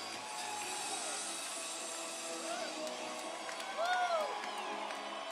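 Hockey crowd in a Jacksonville arena during an ECHL playoff game roars after a power play goal, a steady wash of cheering with whoops and whistles rising near the end.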